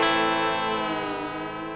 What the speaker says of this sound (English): It tightens and loosens the strings as you move it up and down like this